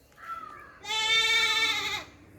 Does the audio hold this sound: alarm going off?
no